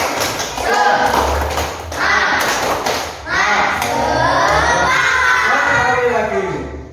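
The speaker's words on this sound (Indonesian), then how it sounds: "Coba semangat kita lakukan dulu tepuk semangat." Schoolchildren in a classroom perform a rhythmic clapping chant together, shouting words in unison over bursts of group clapping in short repeated phrases, loud and close with a teacher's voice among them.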